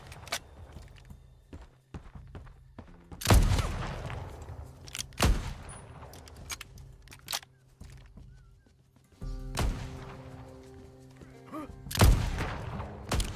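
Sharp gunshots from a frontier-era firearm in the open-world Western survival game Legend of California, about five separate loud cracks spaced a second or more apart, with quieter footsteps and ambient noise between them.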